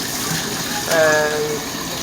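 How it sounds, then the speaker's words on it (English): Water runs steadily into a container to be used for washing, a constant close gushing flow that swells slightly in the middle. A voice is heard faintly over it. "I'm just getting some water and then a little bit of his soap"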